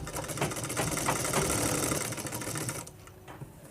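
Sewing machine running steadily while stitching a sleeve into a blouse, a continuous close mechanical whir for about three seconds before stopping, leaving quieter room sound.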